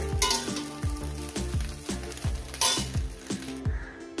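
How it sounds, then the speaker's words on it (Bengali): Frying in a wok, with a steady sizzle and a regular run of metallic scrapes and clinks from a spatula against the pan, close and without talk. "এবার আমার ডিমটা ভাজা হয়ে গেছে।"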